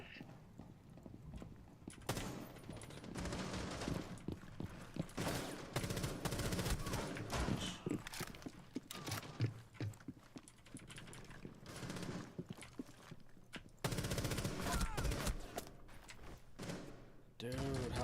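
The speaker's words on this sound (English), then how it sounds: "This fucking guy shooting me through the wall with that fucking gun." A gun fires through a wall in Rainbow Six Siege, rapid shots and fusillade bursts recurring throughout, mixed with game noise and someone talking over the action.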